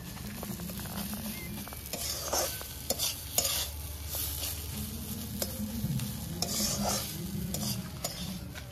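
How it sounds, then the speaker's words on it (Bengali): Spice paste with ground prawns frying in oil, stirred continuously with a spatula, giving close scraping strokes over a soft steady sizzle. "মশলাটা ভালো করে কষানো হয়ে গেছে, মশলা থেকে পুরোপুরি এই যে তেল ছেড়ে দিয়েছে।"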